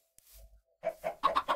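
Chickens in a Minecraft chicken farm cluck in short, close, loud bursts, a quick cluster of rhythmic clucks after a faint opening tone.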